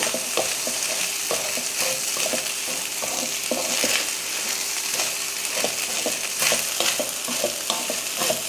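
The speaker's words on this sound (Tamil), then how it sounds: "இப்போ இதில் வெள்ளச்சோரை சேர்த்துடலாம் சேர்த்துட்டு நல்லா கலந்துருவோம்" Cooked white rice being stirred into sautéed onions in a pan on low heat for onion rice, with a continuous gentle sizzle and frequent light scrapes and taps of a spoon, close up.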